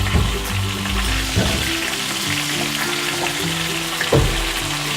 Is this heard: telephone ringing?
no